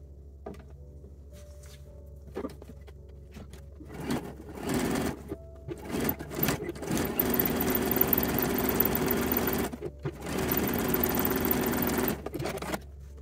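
A sewing machine top stitches down a pressed seam on a lined-cup teddy, starting with short bursts and then running in long, steady, close-up runs with brief pauses.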